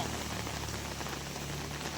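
Heavy rain pours steadily over a town market street, a dense, unbroken hiss of drops hitting surfaces, loud and close with no voices.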